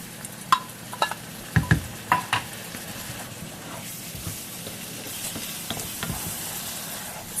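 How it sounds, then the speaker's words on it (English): Chilies and spices being stirred and heated in a frying pan for homemade Mexican enchiladas: a few sharp scraping strokes of the spoon early on, then a steady soft sizzle with occasional clinks, no talking. "Stir it around real good."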